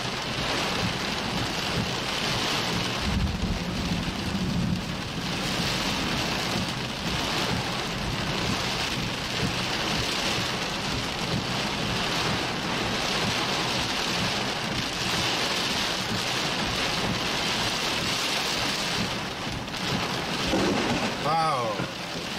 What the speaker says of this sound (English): Rain band's really coming in now.